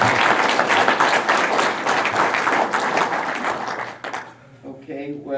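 Workshop audience applauding after a talk on supplementing coho salmon runs, a steady wash of many hands clapping that fades out near the end, followed by a voice beginning to speak.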